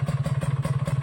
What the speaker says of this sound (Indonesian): motornya udah saya hidupkan